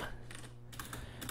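Keys clack on a computer keyboard in quick clustered bursts, fairly faint over a steady background hum.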